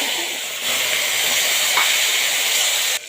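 Tomatoes hit hot oil with a loud, steady sizzling hiss that holds for a few seconds, then cuts off abruptly, heard up close.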